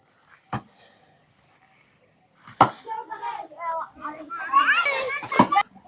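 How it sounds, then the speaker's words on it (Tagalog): Children playing and shouting nearby in a residential neighborhood, with a few sharp knocks followed by a jumble of excited young voices rising toward the end, close and lively. "Maingay kasi mga bata dito."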